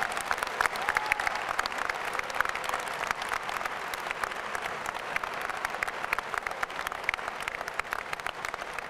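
Graduates at a university journalism school commencement applaud and cheer for their parents, a sustained, even wash of crowd clapping from start to finish.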